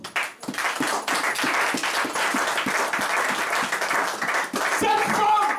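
A church congregation at an Easter service claps in lively unison, a dense, steady round of applause that fills the room from start to finish, with a voice audible beneath it.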